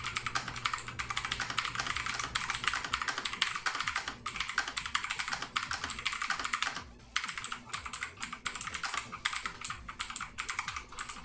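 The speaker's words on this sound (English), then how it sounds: "Can you guys hear my keyboard?" Rapid, steady clatter of typing on a mechanical keyboard, close and crisp, with a brief pause around the middle before the keystrokes resume.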